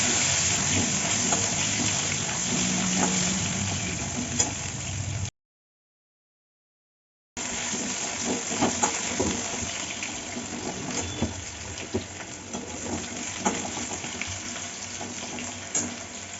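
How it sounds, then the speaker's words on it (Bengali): Potato pieces fry in oil tempered with bay leaf and white cumin, a steady close sizzle that briefly drops out to silence, then resumes with occasional stirring sounds. "এবার একটু আলুটা ভাজা করে ভেজে নিই।"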